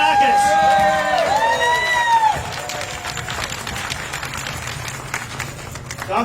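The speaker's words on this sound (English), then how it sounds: "let's give another round of applause for Lieutenant Governor Eleni Kounalakis" Cheering, clapping and whoops from a crowd at an outdoor Unity Against Hate rally in Sacramento, loud at first and then easing to a steady patter of applause.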